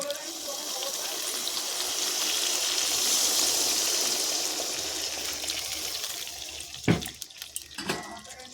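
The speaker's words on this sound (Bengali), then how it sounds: "এবার আমি এখানে দিয়ে দেব পরিমাণ মতো জল" Water poured from a vessel into a simmering pangas and tengra fish curry, a steady rushing splash that swells and fades, followed by a couple of sharp clinks near the end, close, with brief talk.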